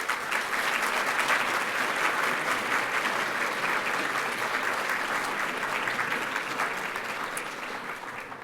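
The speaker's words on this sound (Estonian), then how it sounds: "Palun aplausi neile kõigile." Steady, dense applause from an audience at a school ceremony marking Estonian Mother Tongue Day, sustained and even for several seconds before easing slightly at the end, with no speech over it.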